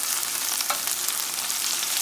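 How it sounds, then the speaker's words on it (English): Onions sizzle and fry steadily in hot oil, cooked as a base for Guyanese smoked herring, a dense continuous hiss close up with no talk. "So we're gonna add our onions to the oil."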